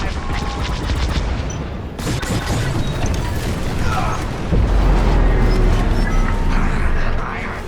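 A reactor core blows up during a Star Wars: Squadrons space mission, heard as loud rumbling blasts and crashing bursts layered over starfighter weapon fire, with a deep booming surge in the latter half.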